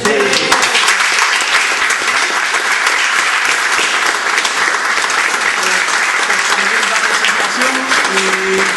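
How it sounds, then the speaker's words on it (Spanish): Sustained applause from an audience honoring a guest, dense and steady clapping that fills the whole stretch at close range, with a voice or two faintly mixed in. "arrancamos un aplauso a Lynn"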